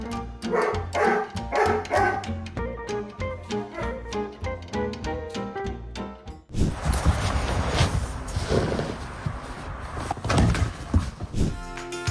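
A dog barking while guarding a house, a run of rapid loud close barks in a steady rhythm, then a burst of noisier, rougher sound with more barking mixed in.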